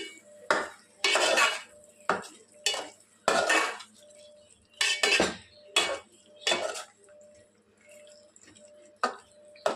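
A spoon stirs fried eggs through egg curry in a metal pan, with repeated loud scraping and clinking strokes at an uneven rhythm, close up and with no talking.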